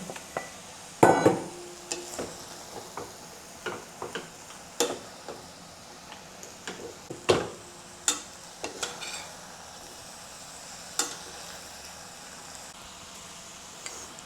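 Lion's mane mushroom is tossed with green beans in a pan for a Cantonese stir-fry, giving a low sizzle broken by a dozen or so sharp utensil clicks and scrapes against the pan, busiest early on and thinning out later.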